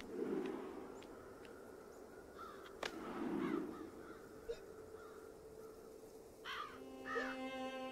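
Bird calls in the video game Child of Light: a few scattered cawing and warbling calls over soft ambient game music, fairly faint and spaced out.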